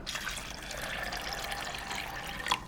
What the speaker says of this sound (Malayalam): അത്യാവശ്യം വെള്ളം ഒഴിച്ചു കൊടുക്കാം